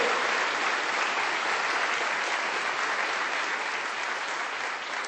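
Dense, loud applause from a church congregation at a Sunday service clapping unto the Lord, a continuous wash of many hands that holds steady before easing slightly at the end.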